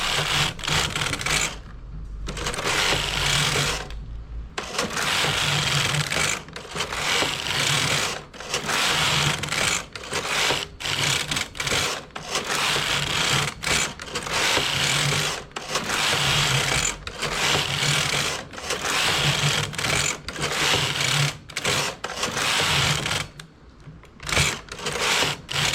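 A knitting machine carriage works a rice-stitch pattern, sliding back and forth in repeated loud whirring, clacking passes separated by short pauses.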